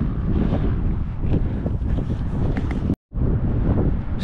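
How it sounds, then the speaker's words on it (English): Strong wind buffets the microphone in a loud, rumbling roar with gusty flutter on the West Highland Way between Kingshouse and Kinlochleven, Scotland, cutting out for a moment before resuming. "Still windy"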